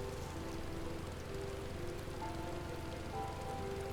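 Steady rain falls in Final Fantasy XIV: Heavensward, a constant hiss of drops on surfaces with soft music tones running underneath.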